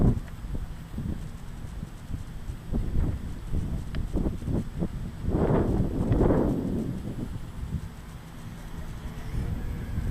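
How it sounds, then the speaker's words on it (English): Strong gusty wind buffets a Sport Cub S light aircraft in flight, heard as rough rumbling wind noise with a louder whooshing gust swelling midway, then easing. "Big gust of wind, that's what I'm talking about."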